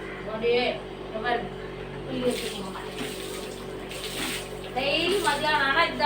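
Water poured over a person bathing splashes and pours in uneven bursts close by, with people talking over it, including a voice.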